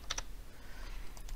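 Fingers type on a computer keyboard to enter a name into a login field, giving a short burst of crisp clicking keystrokes, close and fairly quiet, with no one speaking.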